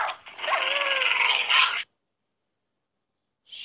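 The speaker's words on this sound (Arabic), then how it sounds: "ده تقريبا كل الكلاب دلوقتي هتيجي تهجم عليها يا شباب" Dogs in the Minecraft video game growl and whine in a single burst of under two seconds, fairly loud and alone, followed by silence and then a brief new sound at the very end.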